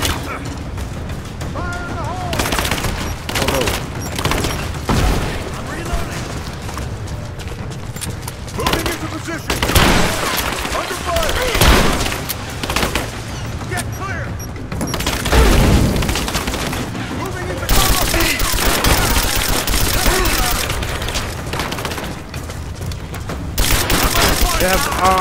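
Sustained gunfire and booming explosions in the video game Rise of the Tomb Raider, heavy automatic bursts going on continuously and loudly, with shouting voices over the fighting.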